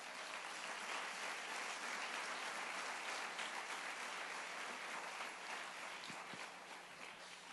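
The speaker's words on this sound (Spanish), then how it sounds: "Dale un aplauso al Señor" Church congregation clapping together in steady sustained applause, distant and faint across the whole span.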